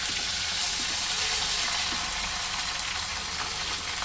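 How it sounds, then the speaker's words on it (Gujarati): Garlic frying in a pan with ginger-chili paste for pav bhaji, a steady, close, broadband sizzle that holds evenly throughout with no talking. "તે લસણ જે ફ્રાય થશે"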